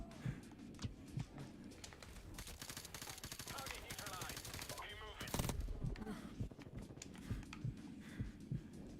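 Rapid bursts of gunfire in a shooter video game, dense and loud, with a heavy blast near the middle and scattered shots after, mixed with faint game noise and no clear talk.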